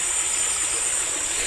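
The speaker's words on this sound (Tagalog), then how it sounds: "Hindi po siya malaking ilog, sapa lang po siya. Pero malinaw po ang tubig niya. So bali running water po siya." A small clear stream of running water gives a steady, even rush of broadband noise, close and continuous for a brief stretch with no talking.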